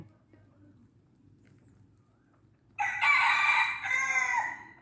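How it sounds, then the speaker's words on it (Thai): After a quiet low background hum, a male junglefowl gives a loud, close crowing call, rising then trailing off in a second phrase, at a forest temple in the evening. "นี่คือไก่ป่าตัวผู้นะคะ"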